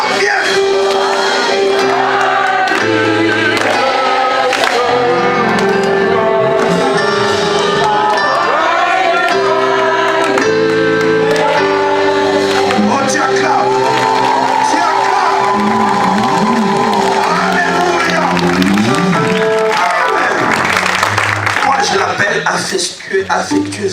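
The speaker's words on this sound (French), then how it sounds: "Qui peut m'aider pour chanter un joyeux anniversaire, s'il vous plaît?" A church congregation sings happy birthday together at a youth conference, loud and sustained massed voices with cheering and shouts mixed in.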